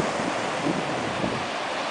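Water waves rolling onto a sandy beach on a calm evening, a steady close wash of surf mixed with wind noise, no voices.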